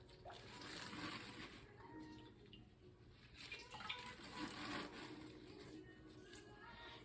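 Water sloshing and splashing as big leafy greens are swished around in a cooking pot, a continuous wet churning that swells and fades in waves at close range.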